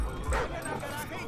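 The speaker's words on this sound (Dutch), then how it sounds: "De hond." A dog barks during gameplay of Call of Duty: Ghosts, short sharp yelps mixed into game noise and a speaking voice.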